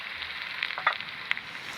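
Sesame seeds drop into hot oil for a tempering while onion curry is cooked, giving a continuous bright crackling sizzle with a few sharper pops, close and fairly quiet.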